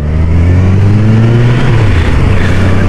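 A Kawasaki Versys motorcycle carrying luggage pulls away on a road trip, its engine droning loudly and steadily as it accelerates, with a rising then settling pitch and constant wind noise.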